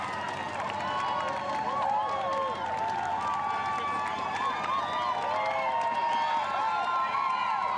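Big crowds cheer along the roadside at the London Marathon as elite runners pass, a steady roar with scattered whistles and clapping under continuous commentary.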